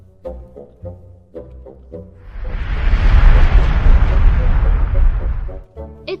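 A toy volcano from a balloon experiment bursts into a loud, sustained rushing roar lasting about three seconds, rising suddenly and then cutting off, with children's voices talking before and after it.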